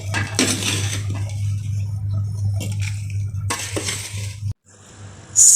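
Cut lemons and chillies go into a jar for homemade mixed pickle: scraping and knocking of produce against the container over a steady low hum, a few louder clatters, then a short drop to quiet.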